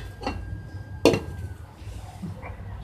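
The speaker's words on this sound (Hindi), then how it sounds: "अब इसे 2 मिनट के लिए मैं ढक दूंगी।" A lid clinks down onto a metal pan of mixed potatoes and beans, one sharp clatter near the middle with a softer knock just before it, set against a low kitchen hum.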